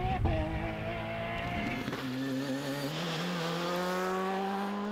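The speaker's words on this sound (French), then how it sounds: "Voici Jimmy Dunt au volant de la meilleure des Ford, 15e avec sa Fiesta." A Ford Fiesta rally car at the South Belgian Rally, its engine note loud and close, sweeping up in pitch as it accelerates and shifts, with a brief lull around the second mark.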